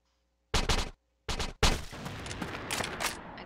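In the video game Crossfire, Dragon Barrett rifle fire comes as two sharp, loud shots in quick succession. A third blast follows and trails into a sustained rattle of gunfire.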